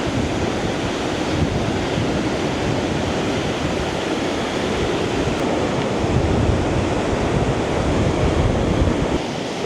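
Steady wind and rolling surf fill a New Zealand beach, a dense, continuous roar with gusty rumble and wind buffeting the microphone, no voices throughout.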